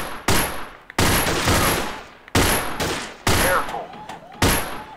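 Allied SMG 26-40 submachine gun firing in the VR shooting game Gun Club VR: six sharp, loud bursts at uneven intervals, each decaying into a brief ringing tail, with no talk.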